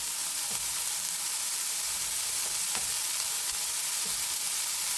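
Paddu batter fries in oil in a pan with a steady, dense sizzling hiss throughout, close and even, with a few faint scrapes and taps.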